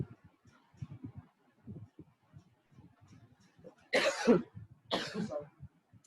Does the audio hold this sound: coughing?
yes